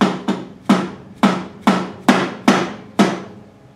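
A hammer strikes a large socket seven times to countersink an exhaust part on a Honda CX500 motorcycle, each blow a sharp metallic bang with a ringing decay, close and loud, evenly spaced.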